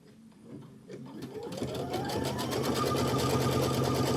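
An embroidery machine stitches a watermelon quilt block, starting with a few soft clicks, then spinning up into a steady rapid mechanical whirring with a rising motor tone that holds loud and even to the end.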